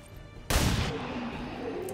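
A single loud, sharp gunshot in the XCOM 2 video game cracks out after a brief quiet moment, followed by a long rumbling decay, with no voices over it.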